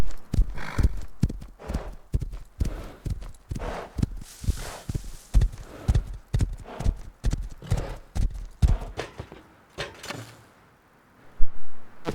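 Rhythmic horse hooves clip-clop in a quick, steady gait in a video game for most of the stretch, then pause briefly before one last heavy thud.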